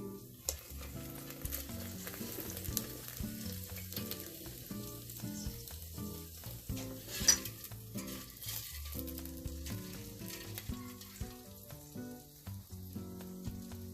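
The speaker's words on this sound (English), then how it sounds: "You hear that sound of burning?" Steady sizzling and crackling of Italian-style meatballs cooking in an air fryer, continuous and fairly soft, with a low hum running underneath and no voices.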